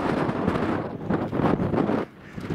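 Strong wind buffets the microphone at a wild camp on Illgill Head at sundown, a loud continuous roar that swells and eases with gusts and drops off near the end.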